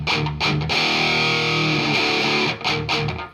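Electric guitar played through a Wangs HD 15 amp on its crunch channel, loud and continuous with distorted, sustained chords and a few brief picked breaks, no voice.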